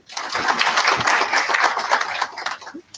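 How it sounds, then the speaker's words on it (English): A conference audience in a hotel venue in Nairobi breaks into a round of applause, a dense burst of many hands clapping that swells quickly, holds steady, then tapers off near the end. "Another round of applause."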